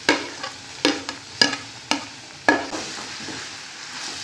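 Chopped tomatoes tipped into a curry frying in a pan, with sharp clatters of stirring at irregular intervals over a steady sizzle, close and fairly loud.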